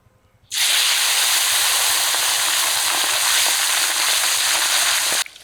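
Loud, steady sizzling of pabda fish frying in hot oil in a wok, starting abruptly and holding a continuous hiss before cutting off.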